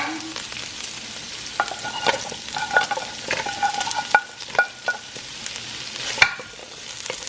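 Pork, carrots and other vegetables frying in a pan for pancit bihon, a continuous close sizzle with repeated clinks and scrapes of a utensil stirring, no voices.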